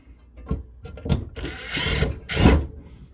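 An electric drill is backing screws out of a Vaddio Quick Connect 4 power and control unit during a teardown, giving several short, loud whirring bursts of a noisy, overpowered drill with pauses between them.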